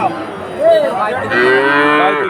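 A calf moos twice in close succession, loud and near, the second call longer and rising, with faint crowd noise behind, at a cattle market in Bagerhat, Bangladesh.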